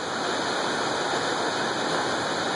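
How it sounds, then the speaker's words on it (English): Colonnade Falls, the lower of two closely spaced waterfalls on a river in Yellowstone National Park, roars as a steady, loud, dense rush of falling water with no pauses and no voices. "So here's another shot of the second lower waterfalls of those two."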